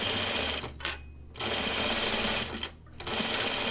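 Close, steady runs of a sewing machine stitching a tunic hem, its rapid motor whir broken by two brief pauses before resuming.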